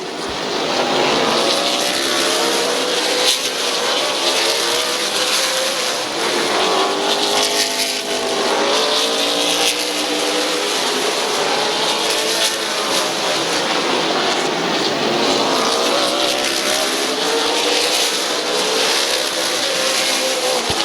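Race cars lap Midvale Speedway, their engines whining in repeated rising and falling sweeps as they circle, loud and continuous with several cars overlapping.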